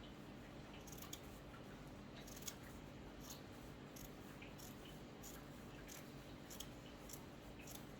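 Scissors snip through burlap close by in a series of short, crisp cuts spaced out over several seconds, each a faint fibrous crunch over a quiet, steady room hum.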